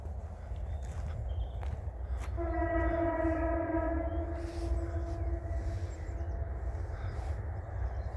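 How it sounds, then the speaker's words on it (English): A train rolls past on a nearby railway track in the New Forest countryside, a steady loud rumble throughout with a long two-tone horn sounding in the middle, footsteps faintly audible close by. "There's a train track nearby as well,"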